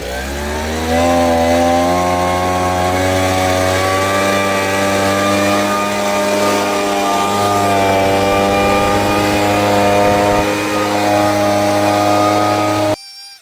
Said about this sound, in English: So what I'm doing now is blowing all the thatch into the middle of the lawn, into a pile, before I bag it all up.